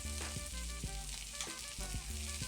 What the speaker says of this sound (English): Just gonna baste it with this butter a little bit more.